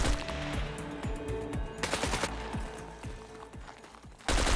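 Rapid automatic gunfire in the survival video game SCUM, dense overlapping bursts of shots with sharp cracks and echoing tails, loud and sustained throughout, no talking.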